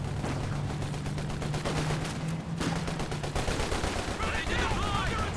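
Rapid machine gun bursts rattle steadily throughout a Company of Heroes 2 battle, a continuous stream of closely spaced shots with a brief break midway, set against battlefield noise and low voices.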